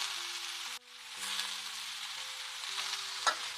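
Brinjal pieces sizzle steadily in a pan for an eggplant and cabbage curry, a close continuous frying hiss with a brief clink near the end, over a faint background tune.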